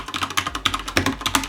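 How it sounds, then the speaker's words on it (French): Typing on a Corsair K70 TKL mechanical keyboard gives rapid, close, crisp clacking keystrokes in an uneven rhythm, with no voices. "Mon clavier est un Corsair K70 TKL. Clavier mécanique avec un son"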